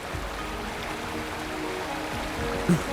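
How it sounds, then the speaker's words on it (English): A waterfall in the video game Wuthering Waves gives a steady rushing wash of falling water. It stays even and moderately loud throughout, with a small splash near the end. "Can we go elsewhere where we're away from the waterfall"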